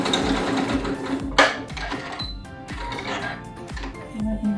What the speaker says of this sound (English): now you will continue sewing